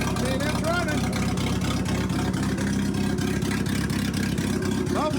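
A Jeep engine with a bad muffler runs steadily, a loud, continuous low rumble with regular pulsing throughout, close by, with some talk over it.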